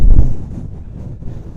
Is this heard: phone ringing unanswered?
no